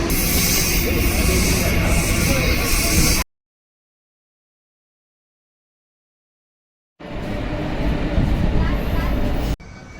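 A suburban train rumbles along loudly with broadband clatter, cutting out to silence midway before the running noise returns; a voice is faintly present.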